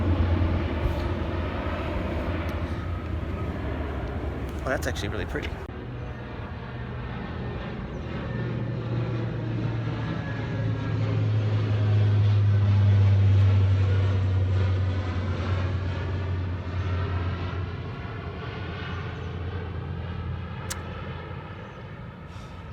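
Airplanes pass overhead in a steady, broad rumble that swells to a peak midway and fades again, with a low drone underneath, heard outdoors near a Nissan Skyline GT-R. A voice briefly comments early on.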